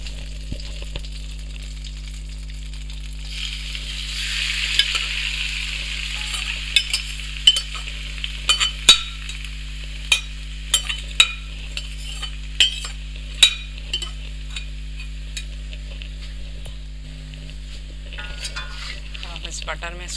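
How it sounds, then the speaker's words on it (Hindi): Marinated chicken frying in melted butter in a karahi: a steady hiss of sizzling fat with repeated sharp clicks and scrapes of a spoon against the pan, close, over a low hum. "बटर में इसको हल्का सा फ्राई कर लेंगे"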